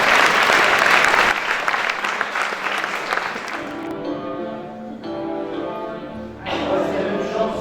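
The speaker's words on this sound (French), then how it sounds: "On peut les applaudir parce qu'ils ont fait très très boulot." A concert audience applauds the altos of a choir performing in Pugnac, with dense clapping at the start that thins and fades, then a brief renewed burst near the end.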